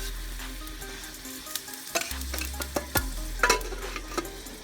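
Onion, tomato and green chilli sizzling in ghee in a kadhai on the stove, a continuous crackling fry broken by repeated stirring clicks and scrapes.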